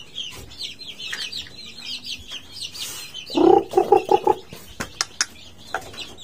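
Three-week-old chicks feeding, with soft high cheeping throughout and a short burst of louder clucks near the middle, followed by a few scattered tapping sounds.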